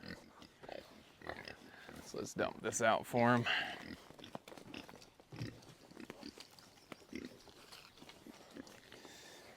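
Farm pigs grunt and oink near a water spot as they come over for scraps. The grunts are close and come in bursts, with a person talking over them.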